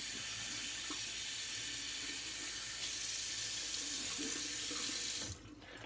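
Tap water runs steadily from a faucet into a sink while a shaving brush is rinsed, a close, continuous splashing hiss that cuts off abruptly near the end.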